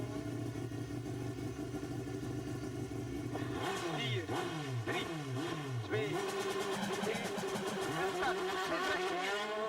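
Junior WRC rally car leaving the start at Rally Catalonia 2009: an idling engine bursts into hard revving with rapid rising-and-falling gear changes, loud and close, under a commentator's voice.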